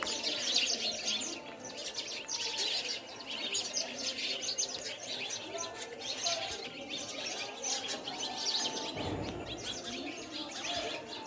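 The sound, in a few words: house sparrows chirping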